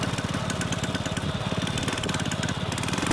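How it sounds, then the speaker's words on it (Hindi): A motorcycle engine runs on homemade petrol made from plastic, a loud, close, rapid chugging with an uneven, knocking pulse throughout. "हमारी ये बाइक चल रही है अपने होममेड पेट्रोल पर"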